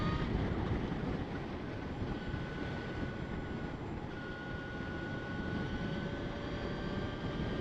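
A Victory Empulse TT electric motorcycle pulls away in a continuous rush of wind and road noise, with a thin, rising electric whine running steadily underneath and no voices.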